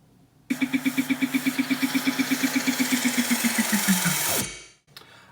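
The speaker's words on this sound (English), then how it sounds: "We've also got a really interesting snare roll and some sort of like droney synth effects" A rapid snare roll pulses evenly over a bright noisy synth wash, pitching downward and accelerating before cutting off abruptly.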